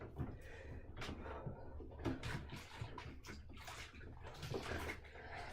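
A catcher's knee saver is hand-washed in water, producing continuous sloshing, splashing and scrubbing as the pad is worked under the surface, fairly close and moderately loud.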